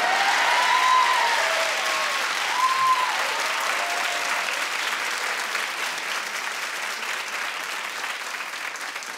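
A talk show studio audience claps steadily and loudly for about nine seconds, with a few whoops rising briefly early on and the applause easing slightly toward the end.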